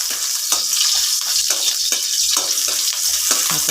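Onion and hasa-hasa fish sautéing in oil as broth is poured in, a loud, bright continuous sizzle with rhythmic stirring scrapes recurring about twice a second, close up and without voices.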